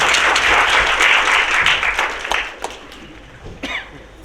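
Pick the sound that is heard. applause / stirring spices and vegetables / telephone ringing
applause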